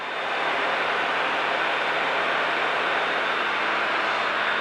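A steady, loud drone from the engine of an Ikarus C42 light aircraft in flight on a circuit at Headcorn, a continuous broadband roar that holds constant throughout with no talk.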